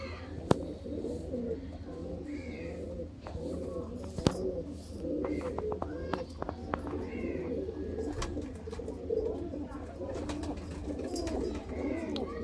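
Teddy pigeons kept for sale in Sialkot coo softly and repeatedly in a low, rolling pattern, with occasional sharp clicks and background chatter from people nearby.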